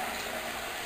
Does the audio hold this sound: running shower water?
yes